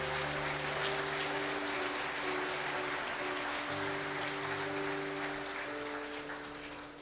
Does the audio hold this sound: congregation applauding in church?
yes